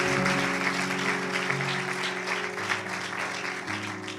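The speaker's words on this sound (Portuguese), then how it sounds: "Dê um aplauso ao Senhor." A church congregation applauds after a testimony of healing, steady clapping throughout, mixed with a sustained organ or keyboard chord beneath.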